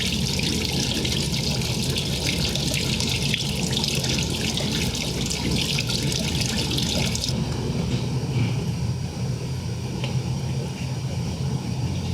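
Coolant drains from the thermostat housing of a Volvo XC90 3.2 in a steady, splashing stream that runs continuously close by, then eases to a thinner trickle toward the end.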